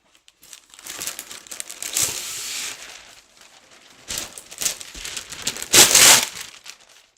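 Parchment paper crinkled and crumpled by hand at a craft table while a heat press warms, giving bursts of close, crisp rustling with a pause in the middle and a loud final crunch.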